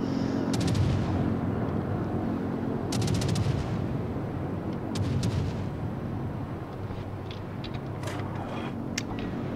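Heavy booming naval gunfire thuds repeatedly over a dense, roaring background as a Japanese Yugumo-class destroyer fires in a World of Warships battle.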